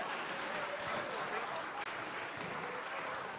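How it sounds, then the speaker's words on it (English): Audience applause at a sheep shearing competition, the Golden Shears novice semi-final, a steady dense wash of many hands clapping throughout, loud and continuous with a faint crowd murmur. "Round of applause, ladies and gentlemen."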